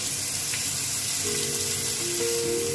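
Onion paste sizzles as it hits hot oil in a pan for matar paneer, a dense, even hiss close by with a faint tonal hum near the end.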